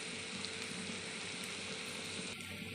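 Chili, turmeric, cumin and coriander powder with salt frying in a pan, a steady close sizzle that runs throughout with no talking over it.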